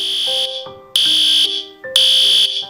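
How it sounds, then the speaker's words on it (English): A loud school fire drill alarm blares in three long repeating bursts of harsh, piercing tone with lower pitched notes stepping beneath, and no voices. "that damn fire drill alarm hits at 11 in the morning"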